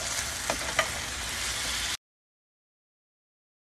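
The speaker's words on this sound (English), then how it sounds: "Stir it all together." Chicken with coriander, ground ginger and smoked paprika sizzles loudly in a frying pan while being stirred, with a couple of sharp scrapes, then cuts to silence about halfway through.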